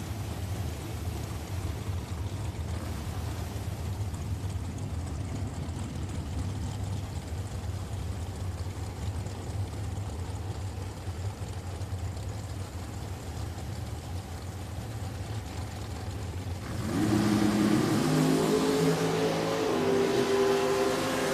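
Bracket racing dragsters at Richmond Dragway make a steady, far-off engine roar for most of the stretch. Near the end a louder, rising rev breaks in as a car launches and accelerates hard.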